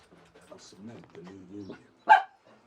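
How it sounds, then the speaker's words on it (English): A single sharp dog bark rings out close by after a stretch of low speech-like murmuring. "The barking is going to end"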